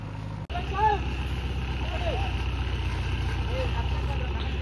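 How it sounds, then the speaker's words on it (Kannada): A JCB excavator crosses a wet paddy field with a steady, low diesel rumble that continues unbroken after a brief dropout, while a few small birds chirp faintly over it. "ಸೊ ಈಗ ಅಲ್ಲಿಗೆ ಆ ಕಡೆಗೆ ಹೋಗ್ತಿದೆ JCB."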